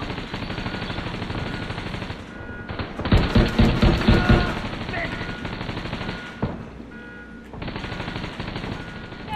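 Automatic rifle gunfire at enemies in the shooter game The Division 2, with sustained bursts of rapid shots, a loud dense volley in the middle and quieter firing around it, mixed with game sounds.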